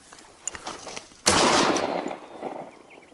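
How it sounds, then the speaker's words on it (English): A single loud gunshot fired at a wild boar, a sharp crack about a second in followed by a booming echo that trails away, with faint rustling before it. "The gunshot rang out"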